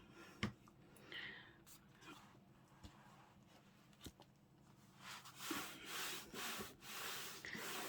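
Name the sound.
rubbing a journal page up and down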